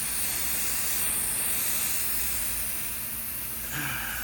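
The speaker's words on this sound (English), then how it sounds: "I'm just gonna spray the seams like so" Aerosol sealant hisses continuously from a spray can close by as it is sprayed along tent seams, a steady broad hiss lasting several seconds with a slight shift near the end.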